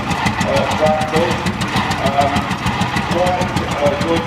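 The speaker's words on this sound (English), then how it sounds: "We've got a 4-cylinder side-valve Hercules engine in here. It's one of the first of the Massey General Purpose tractors." An early Massey General Purpose four-wheel-drive tractor with a 4-cylinder side-valve Hercules engine runs at a vintage show ring, giving a loud, rhythmic chugging idle with an even pulsing beat throughout.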